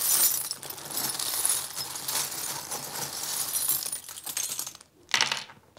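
A handful of small metal tarot charms jingles and clinks as it is scooped up, a dense, close rattle lasting several seconds, then a brief pause and one last short clatter.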